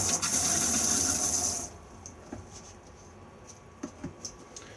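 Water gushes steadily from a pull-down basin in a caravan's washroom for about a second and a half, then cuts off abruptly, leaving a few faint clicks and gurgles in the quiet.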